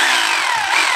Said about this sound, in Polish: Młotowiertarka w użyć z funkcją młota. Bosch